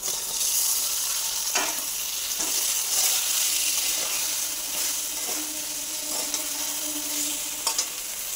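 Fried potato and eggplant sizzling in spiced oil for a pumpkin leaf stew, a continuous close hiss with occasional stirring scrapes and spatula knocks, no talking.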